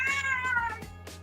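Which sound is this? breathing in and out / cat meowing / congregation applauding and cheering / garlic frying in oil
cat meowing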